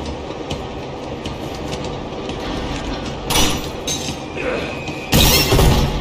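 Train rumble and rattling carriage noise in Uncharted 2, a steady mechanical clatter with bursts of louder crashing impacts near the end.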